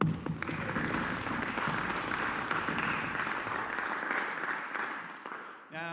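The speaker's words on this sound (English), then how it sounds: "And that is worthy of a round of applause." A large audience applauds award winners at the finale of a live horn ensemble competition. The clapping is dense and steady for about six seconds, then cuts off abruptly.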